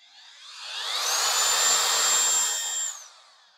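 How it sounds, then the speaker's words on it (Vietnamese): Bosch GBH 2-28 rotary hammer running in drill-only mode with no hammer action, a smooth motor whine that ramps up, holds steady at high speed for about two seconds, then winds down, loud and close with no talking. "Này là chế độ khoan không có búa nè."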